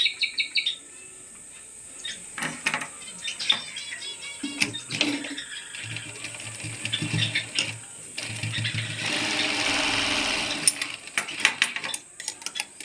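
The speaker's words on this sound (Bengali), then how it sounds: "তাই এখানে আরেকটা এর উপরে সেলাই দিয়ে দিলাম।" A sewing machine stitching fabric in short intermittent runs, close and fairly loud bursts of rapid mechanical chatter separated by pauses, with bird chirps in the background.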